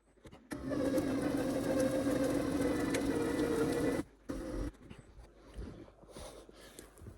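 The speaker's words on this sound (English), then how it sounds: "I'm going to go ahead and winch it." An electric winch pulls a spruce tree, a loud steady motor whine with strong tonal bands running for about three and a half seconds, then stopping abruptly into quieter creaks and rustles.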